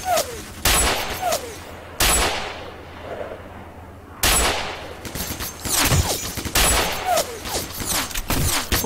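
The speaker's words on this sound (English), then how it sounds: "Is that you that's shooting me?" Gunfire in the video game S.T.A.L.K.E.R. Call of Pripyat with the Misery sniper mod: several sharp, loud shots with echoing tails, spaced irregularly over a quiet outdoor ambience.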